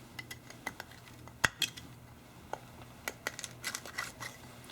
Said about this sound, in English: chop away the plaster